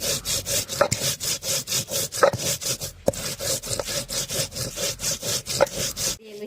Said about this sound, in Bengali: জিরাটা বেটে নিচ্ছি।